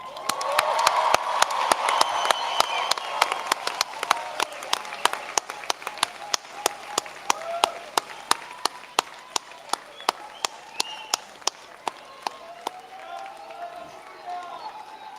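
A graduation ceremony audience of business, law, health care and social work graduands claps and cheers loudly, with sharp rhythmic claps and whoops over a dense, sustained crowd roar that gradually thins out near the end.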